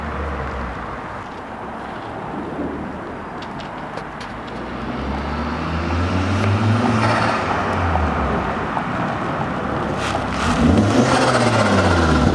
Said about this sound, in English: Still makes that weird fucking wheel noise